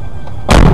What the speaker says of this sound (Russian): Колесо у него взорвалось.